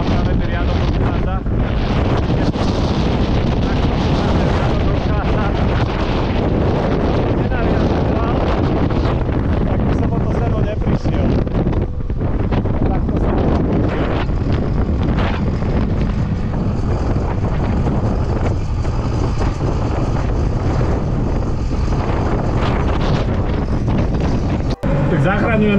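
A strong storm wind roars across a hay field, buffeting the microphone in loud, continuous gusts for the whole stretch. A voice speaks under the blustering wind.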